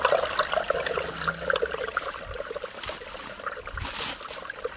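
Water flowing out of a tunnel on overgrown rural land, a continuous near splashing trickle with no talk.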